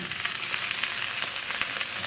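Pre-cooked rice tipped into a pan of sausage and wilting spinach sizzles with a steady, close frying crackle and light stirring scrapes, with no talking.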